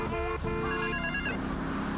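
A telephone rings in Grand Theft Auto 3, a short electronic trilling ring heard close and clear with game ambience behind it.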